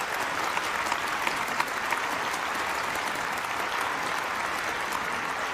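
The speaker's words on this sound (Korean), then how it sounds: "여러분 큰 박수를 올려주시면" A large audience at a peace summit applauds steadily after a special speech, a dense, even wash of clapping that holds at a constant level throughout with no voices on top.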